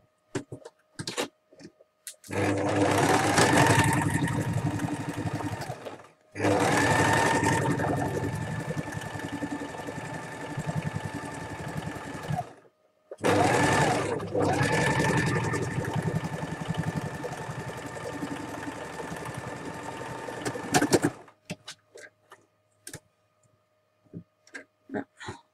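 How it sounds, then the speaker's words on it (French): A sewing machine runs steadily while stitching the seam of a garment sleeve, with a close whirring motor and rapid ticking in three long bursts separated by brief pauses. "je fais ma première couture"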